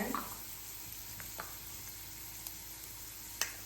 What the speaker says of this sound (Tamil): மல்லி விதை அப்புறம் காஞ்ச இது எல்லாத்தையும் நல்லா வறுத்துக்கலாம்